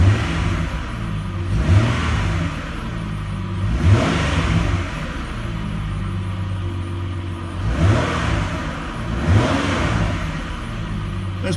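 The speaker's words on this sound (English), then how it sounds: "Let me give it some gas and see what it'll do." A car engine idles and is revved several times while a TopDon ArtiDiag Pro diagnostic scanner is connected, with a steady close idle rumble broken by about four brief rises in pitch.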